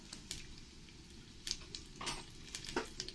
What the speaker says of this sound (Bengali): এবার আমি এর মধ্যে হাফ চামচ কালো জিরে দিয়ে দেবো